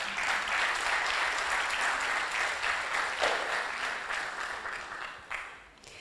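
Applause from a conference audience for a visiting law professor on a panel, a steady wash of many hands clapping through the whole stretch, then easing and thinning toward the end.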